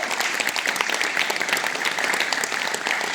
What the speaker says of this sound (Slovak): poprosím od publika ešte jeden potlesk